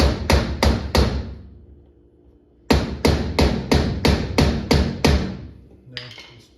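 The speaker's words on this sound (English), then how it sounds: "Let's just try the chisel first before we do the drill" Chisel driven by a hammer against the rivet on a ladder foot of an Xtend+Climb ladder: five sharp metallic blows, a pause, then a faster run of eight ringing strikes, close and loud.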